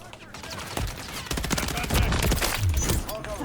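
Bursts of gunfire ring out in the video game Gray Zone Warfare, with several sharp shots and rapid volleys stacking up over a few seconds, loud and close, mixed with other game noise.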